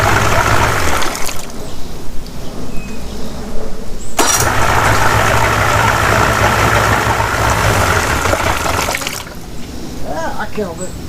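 Evinrude 60hp three-cylinder outboard motor, recently fitted with a new water pump, runs loud and close with a steady broadband roar mixed with churning water, shifting in intensity around the middle and near the end.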